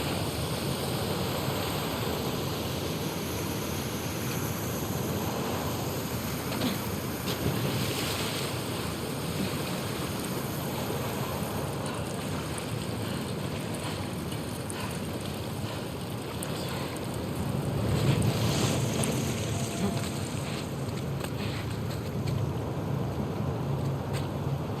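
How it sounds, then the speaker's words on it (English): A fast-flowing torrent of water in The Last of Us Part II rushes as a steady, dense roar throughout, with a brief swell of turbulence near the end and no voices. "the player was faced with a fast-flowing torrent of water they couldn't cross"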